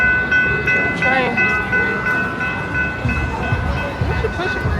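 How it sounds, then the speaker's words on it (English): A train rumbles past near a food truck festival, a loud continuous roar with sustained horn tones sounding over it, while people talk in the background. "Oh, the train coming down."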